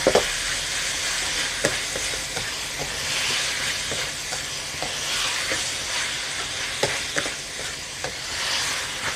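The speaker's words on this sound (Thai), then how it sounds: "ผัดให้เข้ากันค่ะ" Minced pork with basil and bamboo shoots stir-frying in a pan, a loud, steady hissing sizzle broken by occasional clacks of a spatula tossing the food.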